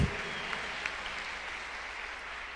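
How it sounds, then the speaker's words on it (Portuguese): Church congregation applauding during a sermon, a soft continuous patter of clapping heard from some distance, fairly even from start to finish. "Pode aplaudir, pode aplaudir, pode aplaudir, pode aplaudir."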